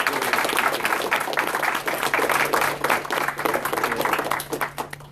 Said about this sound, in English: So maybe we can give another round of applause.